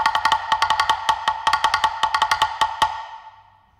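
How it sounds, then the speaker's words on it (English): Homemade bamboo slit log drum struck on the side with sticks in a quick, syncopated pattern of hollow, woody knocks with a clear pitched ring, close and fairly loud, ending with a short decay; no voices. "This one I actually made myself out of bamboo, and it's a sort of version of a log drum."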